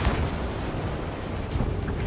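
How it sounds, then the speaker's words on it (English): An explosion rumbles inside a structure in the Ace Combat 7 mission Homeward, Operation Reflux: a dense, steady low roar that sustains for the whole moment at moderate loudness, with no talk over it. "An explosion inside!"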